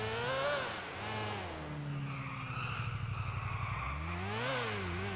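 A motorbike in GTA 4 skids with a squealing, sliding whine over its rising and falling engine note, loud and close, moving through a few swoops over several seconds.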